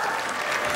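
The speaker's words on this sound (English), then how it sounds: "listen to the crowd" Crowd applause at the National Dog Show, a dense continuous patter of many hands clapping in a large arena, loud and steady throughout the brief moment.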